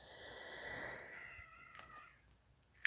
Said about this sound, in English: I'm sorry if y'all hear my cats. They're nuts.